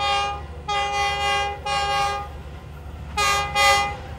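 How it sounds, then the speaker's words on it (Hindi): The 6 Down Green Line express train passes through Haripur Band railway station in Pakistan, its loud horn blasting in several long sustained blows over steady rumbling rail noise. "6 down green line pass through कर रही है हरीपुर बांध रेलवे स्टेशन से"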